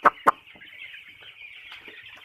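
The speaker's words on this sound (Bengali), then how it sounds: "মুরগি অনেক সুস্থ আছে মুরগিগুলা" Chickens cluck as they run around, opening with two sharp close clucks followed by softer scattered clucking and chirps over a faint background hum.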